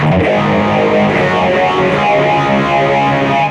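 An electric guitar played through a BOSS eBand JS-10 with overdrive aimed at a 1960s tone rings out as loud, sustained distorted chords filling the whole stretch without talk.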